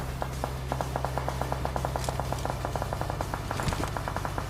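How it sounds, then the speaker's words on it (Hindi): Rapid bursts of automatic gunfire in a video game come from behind. The shots are fast and evenly spaced, at moderate distance over a steady engine hum, with no talk. "फायरिंग पड़ रही थी"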